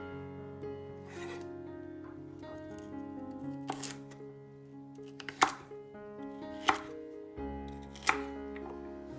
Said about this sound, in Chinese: 然后切成小块